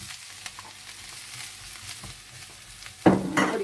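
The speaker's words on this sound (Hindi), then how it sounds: "और थोड़ा सा भूनने के बाद आप इसमें बीफ डाल दें" Beef going into a hot pan for stir-fried sizzling beef, a soft steady frying hiss that bursts into a loud, crackling sizzle near the end as the meat hits the oil.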